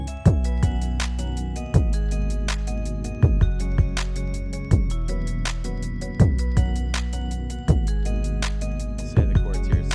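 A piece of a song played from verse into chorus, with steady accented chords and bass every couple of seconds and quicker notes between them, played alone for ten seconds.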